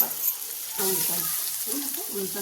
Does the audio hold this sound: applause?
no